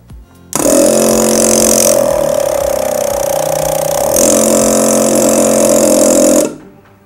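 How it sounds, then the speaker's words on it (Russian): A small BELAUTO BK48 Sputnik car air compressor switches on with a click and runs loud and steady with a buzzing motor hum and rattling for about six seconds, then winds down. "Вот такой вот небольшой миниатюрный компрессор. И давайте его включим."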